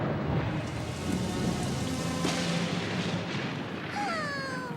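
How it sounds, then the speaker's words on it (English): Steady heavy rain falls in a cartoon, a dense hiss with a low rumble of thunder rolling through, followed near the end by a short whistling, gliding tone. "Rain, rain, rain."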